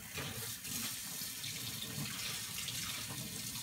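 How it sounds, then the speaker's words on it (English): A kitchen tap runs in a steady, even stream to rinse mayonnaise off food, a constant close rushing of water with no voices. "Just trying to rinse this damn mayonnaise off."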